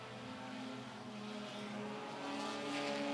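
Stock compact race cars roar around the track at Mt. Lawn Speedway, their engine tones rising and shifting as they pass at a distance and the noise swells toward the end.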